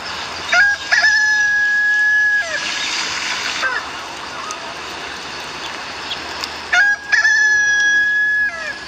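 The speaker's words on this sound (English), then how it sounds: "before the rooster could crow" A rooster crows twice, loud and close, each long call separated by a few seconds, with splashing water and ambient noise in between.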